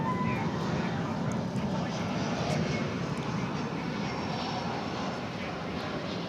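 A fixed-wing airplane at DFW Airport rumbles and roars at night in a steady, broadband drone that holds level for several seconds, heard from a spotting position with a faint high whine on top.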